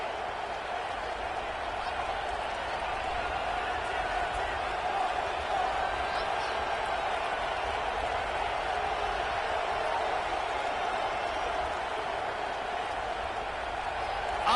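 A packed stadium crowd roars steadily at a Michigan vs. Kentucky football game, a dense continuous wall of cheering and noise loud enough to force a false start, with a commentator talking over it.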